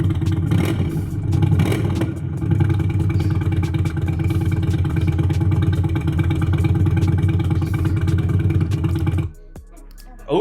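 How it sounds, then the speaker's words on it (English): An Indian Sport Chief motorcycle fitted with a Freedom Performance exhaust rumbles at a loud, steady idle nearby, its throbbing pulse broken by a couple of light revs before it suddenly cuts away. "Let's look at a Freedom Performance exhaust on the Indian Chief."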